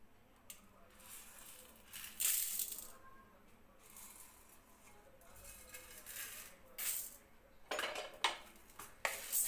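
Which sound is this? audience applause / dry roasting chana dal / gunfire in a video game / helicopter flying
dry roasting chana dal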